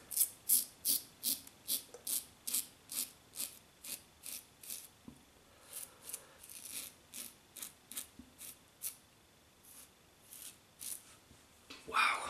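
An adjustable safety razor set to 3.5 scrapes through shaving lather in a run of crisp, raspy strokes roughly every half second, close-up and fairly loud, with brief pauses and a faint voice now and then.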